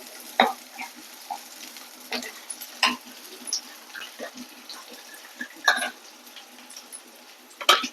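Chopped large onion frying in a pan for a dry prawn and bottle gourd curry, soft sizzling under a quiet kitchen background with scattered stirring scrapes and clinks at irregular intervals.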